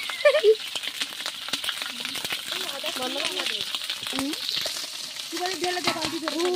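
Ginger fries in oil with a steady sizzle and crackle, scraped now and then by a spatula, while people talk and laugh over it nearby.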